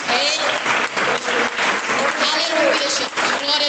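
A church congregation claps together in steady, loud, dense applause throughout, with voices mixed in underneath.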